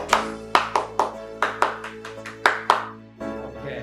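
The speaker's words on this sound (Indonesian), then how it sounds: "Tepuk pramuka." A Scout clap, the tepuk pramuka, rings out as a rhythmic sequence of about ten sharp, close handclaps in an irregular patterned beat, then stops, with no talk over it.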